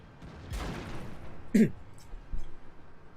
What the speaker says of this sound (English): you'll notice I did fire I believe a heat round right there on the AMX 50B